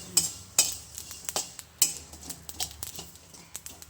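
Onion, garlic and fruit dry roasting in a pan with no oil for mint leaf thokku, with a spoon scraping and clattering against the pan in irregular stirring strokes over a faint sizzle.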